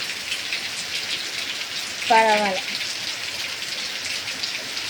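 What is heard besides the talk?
heavy rain falling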